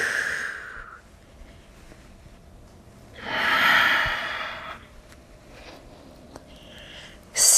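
Breath during a yoga core-strengthening exercise: one long, audible exhale or sigh in the middle, framed by quieter sniffs and short breaths, close and unaccompanied by speech.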